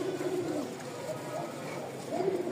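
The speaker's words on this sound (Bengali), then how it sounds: "ককা ডাক শুরু করে দিছে" Male pigeon cooing in a loft, soft repeated low coos in a short phrase and again near the end, steady background hum underneath.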